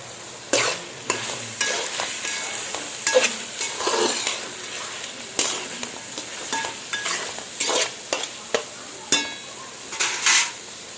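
Mutton cooking in a pan with coriander and curry leaves added, giving a steady frying sizzle broken by repeated scraping stirs and clinks of a utensil against the pan, close and fairly loud, with no talking.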